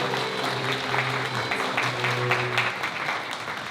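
A room full of people claps steadily and warmly at a wedding ceremony in an art hall, dense continuous applause with a low hum running underneath.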